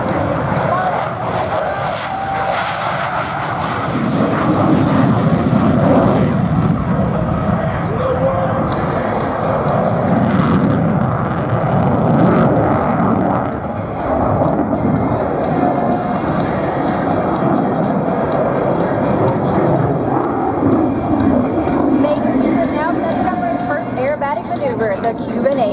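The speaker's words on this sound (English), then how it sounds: "a combat capability demonstration by the world premier multi-role fighter" An F-16 fighter jet flies a combat capability demonstration at a Marine Corps air station airshow in Beaufort, South Carolina, its engine a loud, sustained roar throughout, with a public-address announcer talking over it.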